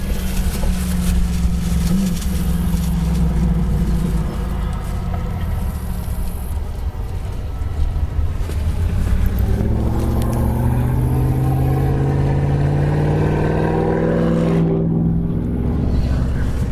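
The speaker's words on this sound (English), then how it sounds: "That was a very loud car." A loud car passes by outdoors. Its engine rumbles steadily, then rises in pitch as it draws near and goes by, while wind buffets the microphone.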